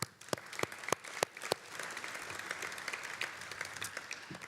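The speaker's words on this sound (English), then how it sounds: "give all of yourselves a round of applause for being great medical entrepreneurs" A roomful of medical entrepreneurs at a life science summit breaks into applause, opening with a few loud, distinct claps before swelling into steady, dense clapping that carries on to the end.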